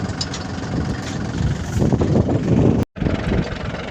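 A farm tractor loaded with pomegranates idles with a steady low engine rumble that cuts out briefly and then resumes, heard close by with no talking.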